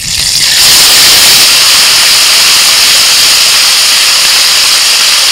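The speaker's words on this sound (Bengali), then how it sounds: "ওই তেলের মধ্যে দিচ্ছি কালো জিরে, অল্প একটু আদা কাঁচা লঙ্কা বাটা আর জিরে শুকনো লঙ্কা" Nigella seeds, ginger-green chili paste, cumin and dried red chilies dropped into hot oil left from frying fish, bursting into a loud, sudden roaring hiss that stays strong and steady throughout, very close, no speech.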